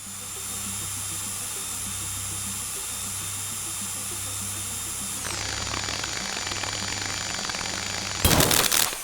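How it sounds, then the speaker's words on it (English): A drill runs in the video game Stories Untold, a steady mechanical whine and hum that shifts pitch partway through, then ends in a short, loud harsh burst. "Switch drill on."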